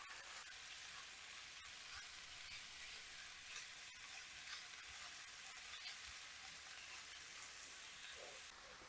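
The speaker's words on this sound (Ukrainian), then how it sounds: "шпинат буду смажити з ковбасою та грибами не дуже довго" Spinach frying in a pan with sausage and mushrooms gives off a steady, even sizzle that runs unbroken and alone.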